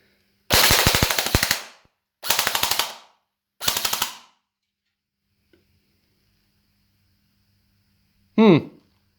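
Well M401 toy blaster with a drum magazine firing rapid full-auto bursts at cans, three short rattling volleys in quick succession, then quiet and one brief voice sound at the end.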